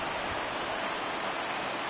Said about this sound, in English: The rain coming down as it is, we are in for a long delay